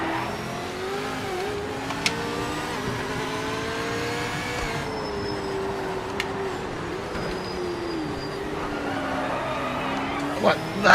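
A race car engine in a racing video game drones steadily and shifts pitch as it revs and pulls through the gears. It runs continuously at moderate loudness with a few faint clicks and no speech over it.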